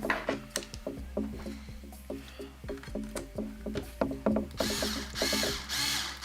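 A screwdriver ratchet clicks in quick bursts as screws are driven into plastic 3D printer parts during an Ender 3 conversion to Core XY, close and crisp, ending in a longer rougher rasp of turning.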